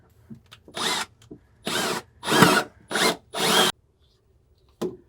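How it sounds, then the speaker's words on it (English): A power drill whirs in five short bursts of varying length, close and loud, with a grinding bite into the metal floor of a C5 Corvette and quiet pauses between. "So I'm just going to drill."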